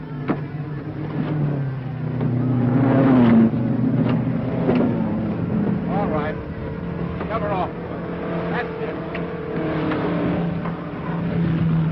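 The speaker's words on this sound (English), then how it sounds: "There's the blonde Comet's car coming out again." A race car engine rumbles and revs as the car is pushed off and pulls away, with a steady drone under shouted voices of the pit crew.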